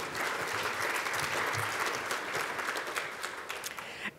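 Sustained audience applause fills a conference plenary hall, dense and even clapping from a large crowd that holds steady for several seconds before tapering slightly at the end.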